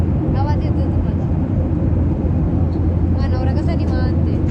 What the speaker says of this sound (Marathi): आता विमान चालू आहे, आवाज येतोय तुम्हाला.